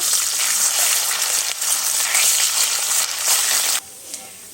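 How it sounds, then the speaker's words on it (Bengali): Tengra fish fry loudly in hot mustard oil as they are turned, a dense, close crackling sizzle that drops suddenly to a quieter bubbling near the end. "এবারে আমি মাছগুলো উল্টিয়ে খুব ভালোভাবে ভেজে নেব"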